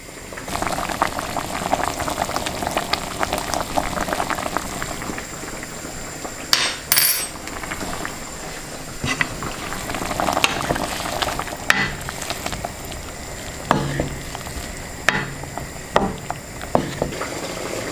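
Venison goulash with paprika and herbs simmering in a pot, a soft steady bubbling and faint sizzle with occasional louder clinks and taps from utensils, quiet and close, no talking.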